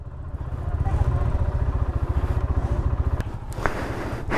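A motorbike rides a rough, broken hill road near Lama in Bandarban, its engine throbbing loud and close in a steady low pulse, with a couple of sharp knocks near the end.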